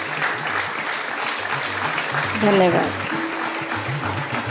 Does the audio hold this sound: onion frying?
no